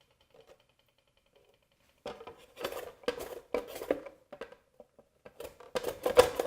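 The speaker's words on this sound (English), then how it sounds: "Now we're going to grate the carrots." Carrots being grated by hand in a home kitchen, a run of quiet rasping scrapes in uneven bursts that grow louder and denser toward the end, after a near-silent start.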